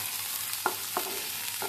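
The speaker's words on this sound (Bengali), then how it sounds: "কাঁচা লঙ্কা দেবো পেঁয়াজ দিয়ে, ভালো করে এবার কষাবো।" Chopped onions and green chillies fry in a pan with a steady, fairly quiet sizzle, broken by three soft stirring knocks spaced across the short stretch. Nobody speaks.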